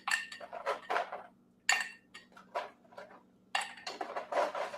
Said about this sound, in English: I'm going to put some ice in this glass